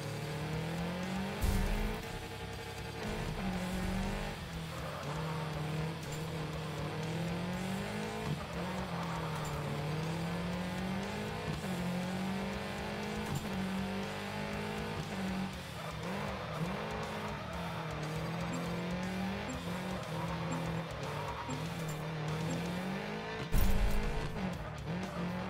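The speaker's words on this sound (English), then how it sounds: "Car just downshifted it, Dodd, for a second there." Engine of a rally car in the Gravel video game, running steadily with shifting revs and a gear change as it drives over gravel, with tire noise and a brief louder burst near the end.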